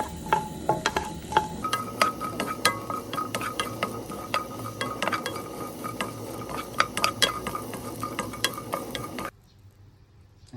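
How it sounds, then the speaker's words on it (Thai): Shallots dry-roasting in a pan: rapid, repeated scraping and rattling of a utensil stirring against the pan, close and continuous for most of the stretch, then cutting off into near quiet just before the end. "มาคั่วก่อนนะครับหอมแดงครับ ใส่ลงไปนะครับ"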